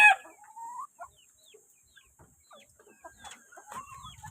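Brood hens and a rooster kept for breeding give short clucks and squawks at close range, scattered and irregular over a quiet background.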